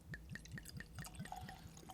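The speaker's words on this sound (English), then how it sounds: "The gurgle." Whisky, a bottle of Auchentoshan Classic single malt, gurgles as it is poured, giving a steady run of evenly spaced glugs at close range with no talk over it.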